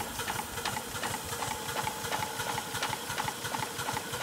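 A Fowler R3 traction engine, fresh from a new crankshaft fitting, chuffs along steadily at low speed with an even, rapid mechanical beat and a constant hiss, heard alone at moderate level.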